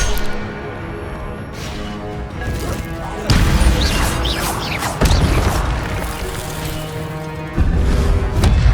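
Loud crashing blasts of a fire spell in the video game Hogwarts Legacy, with several heavy impacts and roaring bursts over a dense backdrop of game effects and music, each burst striking sharply and then sustaining.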